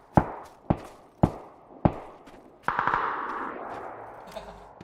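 Gunfire in a video game: four sharp single shots ring out at an even pace, followed by a quick burst of rapid fire that tails off into a lingering rumble. The shots sound moderately close and no voices are heard.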